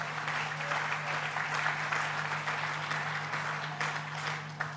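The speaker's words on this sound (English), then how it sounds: "Let's give them a round of applause." A live audience at a Tribeca Film Festival event in New York gives a sustained round of applause, dense steady clapping from a crowd filling the room at moderate volume, with a constant low electrical hum beneath.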